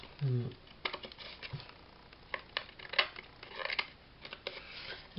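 Scissors snip through stiff canvas paper in a quick run of short crisp cuts, close and fairly quiet, with a brief voice at the start.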